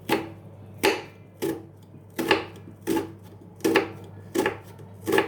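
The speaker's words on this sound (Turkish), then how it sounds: "Onu hemen doğrayıp ince ince küp küp doğrayıp hazırlıyorum arkadaşlar" A knife dices an onion on a cutting board, eight crisp, evenly spaced strikes, close and loud with no talking.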